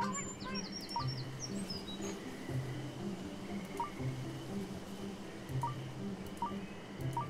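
Birds in Stranded Sails call in short, soft chirps, a rapid trill near the start followed by sparse single tweets, over a steady ambient loop with a pulsing low tone.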